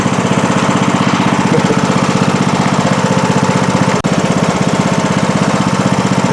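A John Deere D105 lawn tractor engine runs through its spring start-up with a loud, close, rapid, even chugging pulse. One brief click sounds partway through, and no one speaks.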